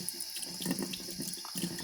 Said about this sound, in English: I like to fill this up with water